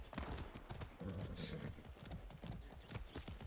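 Horse hooves clip-clop in Far Cry 6, a steady rhythmic trot of game footfalls close by, with a brief whinny and some voice mixed underneath.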